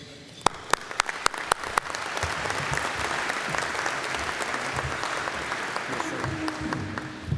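Audience applause greets Colonel Rob Maness at a U.S. Senate candidates forum, opening with a few sharp separate claps that swell into steady, full-room clapping lasting several seconds, with a faint voice near the end.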